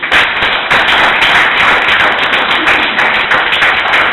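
A church congregation claps together in sustained, dense applause, loud and even throughout, with no voices standing out.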